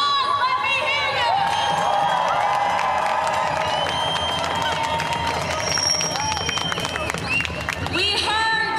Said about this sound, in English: I want everyone here to give themselves a round of applause.